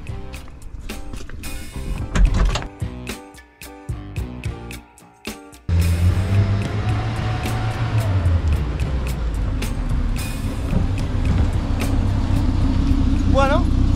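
A car engine hums steadily as the vehicle drives, with road and cabin noise; the first seconds are choppier with clunks before the smooth drive sound settles in.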